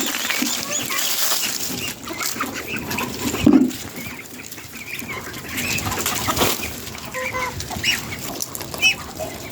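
Birds chirp and ducklings cheep over a busy background of fowl clucking and wing flaps in the morning, with a brief louder burst partway through.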